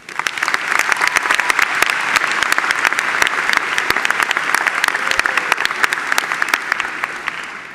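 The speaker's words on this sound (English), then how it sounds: "please join me in a round of applause for Dr. Cleary." A commencement ceremony crowd claps steadily for about eight seconds, a dense, even wash of many hands at a graduate public health graduation, loud and sustained without fading.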